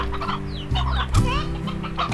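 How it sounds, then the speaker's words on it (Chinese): A rooster in the farming video game Slime Rancher clucks in short, close, loud bursts, with a few higher squawks and a brief thump partway through. "有公鸡啊！"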